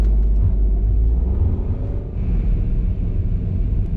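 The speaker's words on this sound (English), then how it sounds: "There's a lot of traffic on the road today." Road traffic passing on a busy Los Angeles street, a steady loud low rumble of vehicles with a slight lull partway through and no voices.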